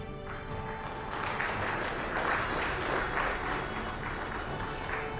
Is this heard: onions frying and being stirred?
no